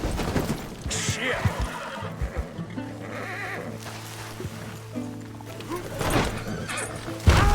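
A horse from the video game Red Dead Redemption whinnies alongside clip-clopping hooves and a busy game soundscape, with a loud neigh near the start and more whinnying later.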